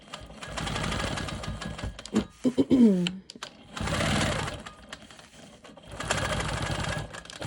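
A sewing machine quilts echo lines along quilt sashing, running in long steady whirring bursts separated by pauses, with a brief voice sound between runs.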